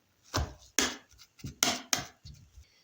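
Boiled potatoes being mashed with sautéed carrot and onion in a pot, a series of about six soft, thick thuds and squelches in an uneven rhythm, close and quiet.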